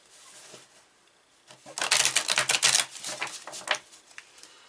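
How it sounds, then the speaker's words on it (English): A deck of tarot cards is riffled close up, a quick burst of rapid flapping clicks that swells and then trails off. "I'm going to shuffle it this way because it's not as resistant this way as the other way."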